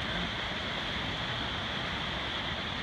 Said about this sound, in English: Look at that, it's like a little cascading waterfall.